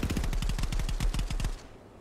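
Rapid automatic gunfire rattles in a fast, steady burst during a competitive match of the VR shooter Contractors, loud and close, then cuts off abruptly near the end.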